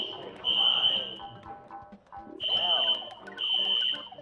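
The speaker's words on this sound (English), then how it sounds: "So a fire alarm went off." A shrill fire alarm sounds in repeated loud electronic tones, each held for about a second with short gaps between, while people talk and react underneath.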